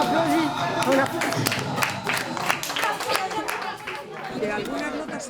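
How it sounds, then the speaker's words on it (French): An audience claps and cheers for music lessons at a school in Madrid, a loud, dense burst of applause mixed with crowd chatter and voices throughout. "On applaudit."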